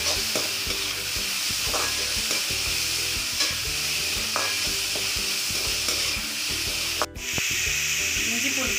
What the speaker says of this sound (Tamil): நல்லா பொரிஞ்சிருச்சு இப்ப வெங்காயம் சேர்த்துக்கலாம்